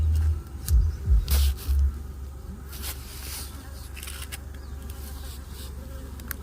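Honey bees buzzing around a beekeeper's hives on a dragon fruit farm, a steady close drone with a few louder pulses as bees pass near, no talking.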